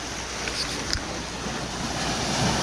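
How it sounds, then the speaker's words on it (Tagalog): Surf rolls onto the shore at Lian, Batangas, a broad, steady wash of seawater mixed with gusty wind buffeting the microphone, continuous with no voices. "Okay guys, nakarating tayo sa dagat."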